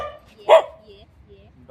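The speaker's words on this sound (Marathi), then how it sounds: "हा भुंकतोय कशाला काय माहिती बाई." A dog at a home gives a single sharp bark, close and loud, among quiet background talk.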